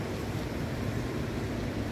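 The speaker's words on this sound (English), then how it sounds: "Now y'all can hear the water." Ocean waves and tide washing in at a beach where people are surfing, a steady, loud broadband rush of surf with wind noise and no talking.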